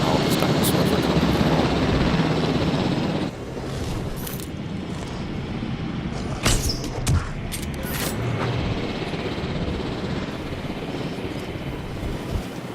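Helicopter in the video game Jurassic World Evolution on Isla Pena, a steady broadband rotor and engine rumble throughout with some game sound effects and someone talking over it.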